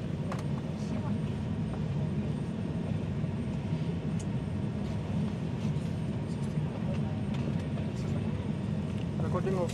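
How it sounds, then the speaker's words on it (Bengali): Kenya Airways jet on a Nairobi to Mombasa flight, engines droning steadily throughout as it departs, a continuous loud low rumble heard from inside the cabin with faint background chatter. "বন্ধুরা 15 মিনিট লেটে বিমান ছাড়ছে।"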